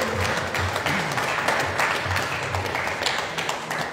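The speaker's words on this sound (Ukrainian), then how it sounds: "Оплески!" Steady, dense audience applause filling the hall at a charity concert in Truskavets, continuous and fairly loud with no voices.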